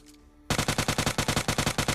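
Rapid automatic gunfire in PUBG Lite bursts in after a quiet moment and continues as a loud, evenly spaced string of about fifteen close shots.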